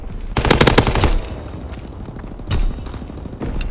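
Rapid machine-gun bursts rattle out against enemy aircraft in the video game Call of Duty: WWII: a loud, dense volley up front, then quieter scattered shots and another short burst.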